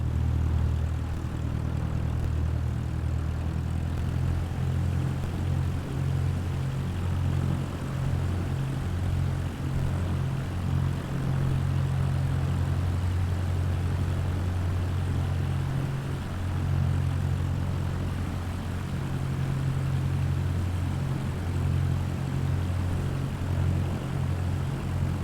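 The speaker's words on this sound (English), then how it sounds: "Taking off runway 11." Propeller plane in Microsoft Flight Simulator 2024 on its takeoff roll from runway 11, a loud steady engine drone with a low throbbing hum that holds throughout, no talking.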